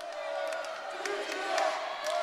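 A boxing-arena crowd in Sofia roars and whoops in steady support for a Turkish boxer, a broad, sustained wash of cheering with a commentator's voice faintly over it.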